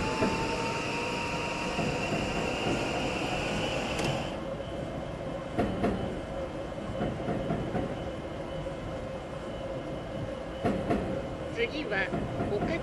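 Yamanote Line electric train running between Akihabara and Okachimachi in the Densha de GO! game, rolling with a steady low rumble, wheel clatter and occasional squeal, under a continuous hum, with distant voices faintly mixed in.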